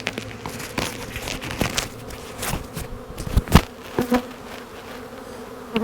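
Honey bees buzz steadily around an open hive during a swarm transfer outdoors. The hum is close and continuous. Crinkling and handling knocks rise over it, with one louder bump near the middle.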